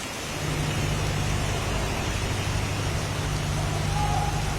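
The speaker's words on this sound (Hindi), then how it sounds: "हम देख पा रहे हैं कि अभी भी बारिश हो रही है" Heavy rain falls steadily over flooded streets in Mumbai's Hindmata area, a dense continuous roar with a low rumble underneath, loud and unbroken throughout.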